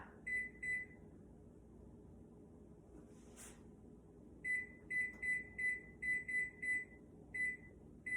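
A household oven beeps as it is set to 500 degrees, giving a few short electronic tones, a pause, then a rapid run of about eight or nine beeps, clear and close in a quiet kitchen.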